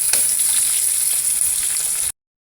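Sliced pork sizzles in a hot pan with browned garlic, a steady bright crackling hiss close by that runs without a break and then cuts off abruptly.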